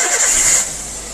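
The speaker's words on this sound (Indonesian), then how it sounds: "Bisa starter. Mesin hidup." A Toyota Avanza with a K3-VE engine cranks and fires, a brief, loud whirring start close by with no one talking.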